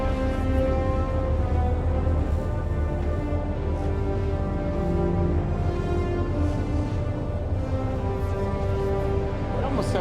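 Sustained ambient music from the space game Star Citizen, evoking a Star Trek theme, with layered synth tones and steady chords held throughout at a constant, fairly loud level and no talk.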